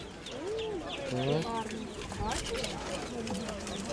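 Pigeons of rare breeds coo softly in a few rounded, repeated calls while people talk nearby.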